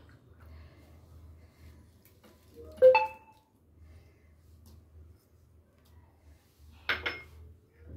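A spoon clinks twice against a bowl while fruit custard ingredients are mixed: grapes, almonds and raisins. The two light, separate clinks sit over a faint low hum, with no talking.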